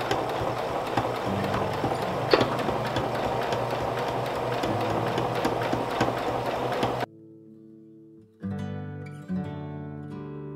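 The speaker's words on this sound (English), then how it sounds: "when you sew the pocket on, you sew as close to the edge of the pocket that you can get" A sewing machine stitches a pocket onto an apron with a steady, fast mechanical whir for about seven seconds, close and alone, then cuts off and music follows.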